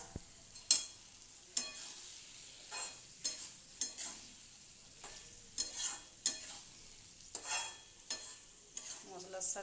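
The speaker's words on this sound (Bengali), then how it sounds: "মশলার সাথে সব কিছু ভালো করে কষিয়ে নেব।" Pointed gourd and fried shrimp are tossed with spices in a sizzling pan, a spatula scraping in regular strokes roughly every second over a soft frying hiss, close and clear with no talk.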